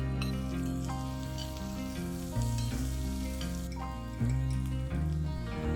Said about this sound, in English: Add in the chopped ginger, garlic, green chillies,